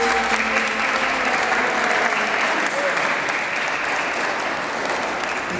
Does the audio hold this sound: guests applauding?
yes